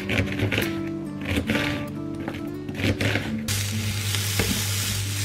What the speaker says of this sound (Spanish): Me he puesto lo que quedó de brócoli de ayer con ajito y aquí he pochado cebolla